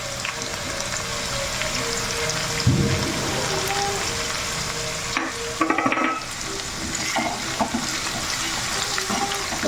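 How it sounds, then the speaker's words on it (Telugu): Onions fry in a pan for a mango pickle, giving a constant sizzling hiss broken by scraping clatters of a spoon stirring, heard close with no talk. "చూసారా ఇలా ఆనియన్స్ అయితే ఫ్రై అవ్వనివ్వాలి"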